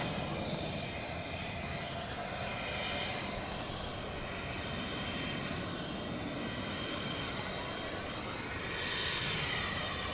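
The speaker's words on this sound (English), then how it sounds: "next plane coming in is American 2569 from Tulsa, 737-800" An American Airlines Boeing 737-800 arrives at DFW Airport at night, its jet engines a steady broad roar that swells slightly near the end, heard from a distance with no talking.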